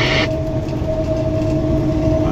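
BNSF freight train with two orange locomotives hauling double-stack cars through the Clovis, New Mexico rail yard, a steady continuous rumble with a sustained tonal hum, heard from close by without talk.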